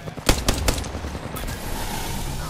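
Gunfire in Apex Legends, a quick burst of three or four sharp shots early on, then a steady rumble of game noise with more distant firing underneath.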